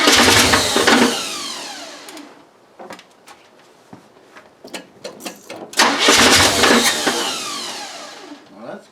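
A 1973 C60 dump truck with a newly installed engine and manual choke cranks and fires up twice, each start a loud, rattling burst that settles briefly, with quieter clunks and knocks in between.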